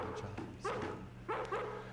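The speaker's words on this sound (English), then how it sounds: "Once he gets barking, a good piece of meat is the only way to shut him up." A dog barks twice in the Harvester video game, two separate woofs spaced about half a second apart, close and fairly loud over a steady low background hum.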